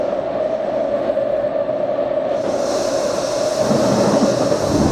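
A C751B electric train in the openBVE simulator runs along the Harbouvale Line with a steady motor hum and rumbling wheels, the hiss brightening partway as it rolls on.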